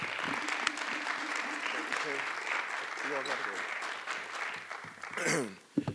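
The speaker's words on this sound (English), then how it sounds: "give a round of applause to Mr. John Scott, co-founder of Fourth Family" Audience applause for John Scott, co-founder of Fourth Family, at a 518Talks speaker event: a close, sustained clapping from a room of people mixed with talking voices, tapering off and ending in a few final claps.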